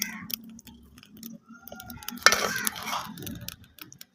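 Rice and jaggery are stirred in a pot for sweet Punjabi gurdwara-style rice, a spoon scraping and clinking against the metal with a soft sizzle underneath. The sound builds to a denser scraping burst midway, with no talking.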